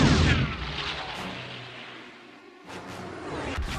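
Artillery fire in an audio drama rains on a capital village: a heavy, rumbling barrage with whooshing blasts fades briefly, then fresh sharp explosions burst in near the end, loud and with no talk.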